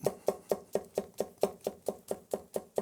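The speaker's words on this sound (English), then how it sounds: "Let's do a little push chop." A Global Model X chef's knife push-chops on a cutting board in about a dozen crisp, evenly spaced knocks. The close, dry thuds fall at a steady quick rhythm with no talking.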